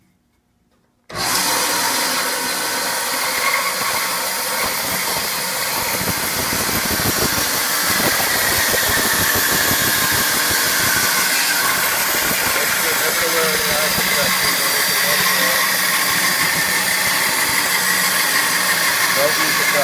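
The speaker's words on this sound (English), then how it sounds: "Go to your bandsaw." A woodworking bandsaw switches on after a brief silence and then runs steadily with a loud, constant whirring hiss and faint cutting noise.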